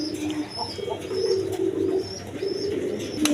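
Indian Bombay pigeons coo in low, repeated throaty bursts, close and fairly soft, with light chirps and background noise around them.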